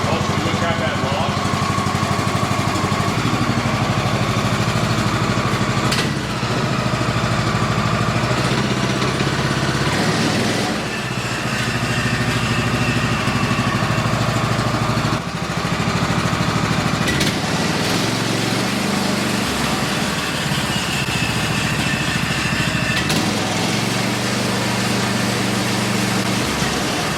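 A TMG-PSM26 portable sawmill's small engine idling as it warms up: a continuous buzzing putter, fairly close, with a few brief dips and voices now and then.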